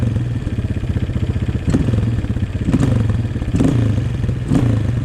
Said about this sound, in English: So it still starts up nice and easy when the engine's warm.